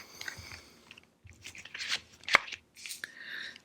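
Tarot cards being shuffled by hand, a run of crisp riffling and snapping bursts with short pauses between, close and fairly quiet, one sharper slap near the middle.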